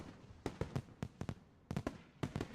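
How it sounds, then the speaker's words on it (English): Fireworks burst in clusters of sharp cracks and pops during a twilight festival scene in the Katawa Shoujo visual novel, several quick volleys separated by brief pauses, fairly close and fairly loud. "Sparking traces arc upwards, ready to explode into floral shapes of fireworks."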